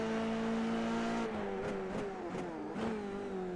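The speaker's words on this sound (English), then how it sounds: "You can hear the revs dropping there as he nearly locks up the rears and drops it." A Formula 3 race car engine in a sim race at Donington holds a high whine, then its revs dip and stutter in several quick drops as the rears nearly lock, loud and close.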